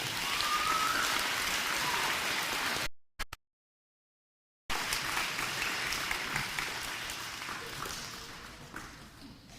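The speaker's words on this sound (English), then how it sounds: "can we give a round of applause to them and everybody that participated?" An elementary school audience at an Arbor Day celebration applauds steadily, a dense wash of many hands that cuts out abruptly for a moment, then resumes and slowly fades.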